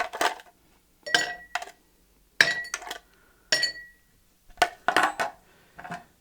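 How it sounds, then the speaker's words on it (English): Ice cubes drop into a Collins glass for a cocktail in a run of bright glassy clinks and clatters, close and loud, coming in short clusters separated by brief pauses. "So we'll start with our ice, and we'll take and add that to our Collins glass."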